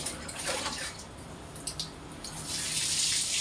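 Water runs steadily from a tap while a child is bathed, a soft continuous splashing gush with faint dripping and swirling, quiet and close, with no talking.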